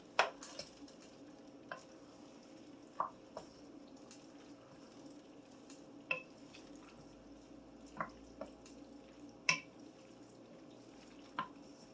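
Homemade Hamburger Helper with lots of vegetables being mixed in a pot: a spoon clinks and taps against the pot at irregular intervals over a quiet background, each knock sharp and close.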